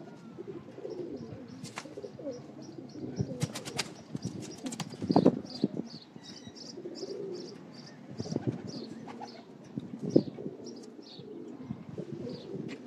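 Pigeons coo in soft repeated murmurs with occasional chirps and short bursts of wing flapping, fairly quiet and close in a loft.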